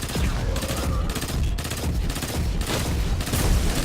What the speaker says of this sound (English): It's a neat little, like, thumping noise as you shoot.